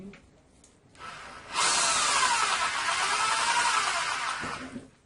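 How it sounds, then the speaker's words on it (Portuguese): An electric drill whirs loudly and steadily into wood for about three seconds at close range, then winds down, in a CNC router workshop. "Com a furadeira fazer um furo tranquilo aqui."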